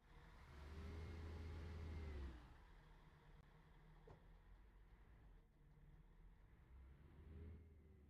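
A bus engine in Euro Truck Simulator 2 starts and revs up, then settles into a low, steady idle hum before revving briefly again at the end.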